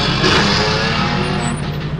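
A loud car exhaust roars close by in one steady, throaty rumble for about two seconds, with no voices over it.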